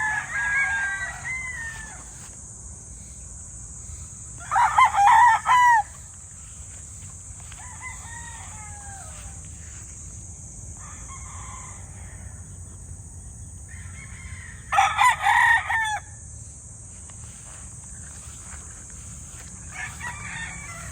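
Two loud rooster crows from gray local banded chickens, about ten seconds apart, rise over a steady backdrop of insect drone and other fowl calling more faintly around a poultry yard.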